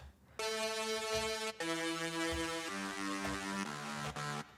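Sustained synthesizer chords change every second or so through a progression, with a bright, rich, steady tone and no voices.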